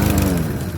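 A Cub Cadet lawn mower engine with the choke on and a faulty carburetor catches briefly, giving a loud, close, steady low rumble with harmonic buzz and no voices, lasting under a second.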